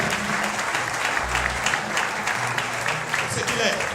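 Congregation clapping during worship, sustained dense applause with voices and crowd noise mixed in throughout.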